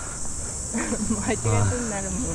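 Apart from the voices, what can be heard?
cicadas chirping in summer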